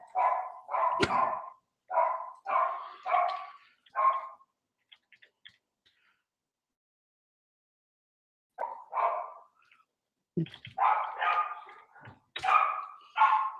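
A dog barks close by in a quick run of sharp barks, falls silent for several seconds, then resumes with another rapid series.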